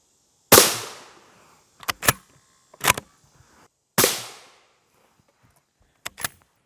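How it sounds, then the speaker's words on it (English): M855 rifle rounds fire at a lightweight NIJ III+ armor plate outdoors: a few loud, sharp gunshots with long ringing decay, alternating with quicker paired cracks, separated by short quiet gaps. "We're going to take 2 more shots of our M855 on this plate"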